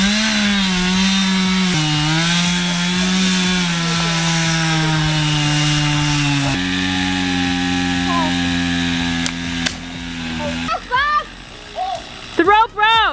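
A chainsaw drones loudly and close while cutting a tree during logging, its engine pitch steady then shifting, before the saw cuts out into sputters and bursts at the end.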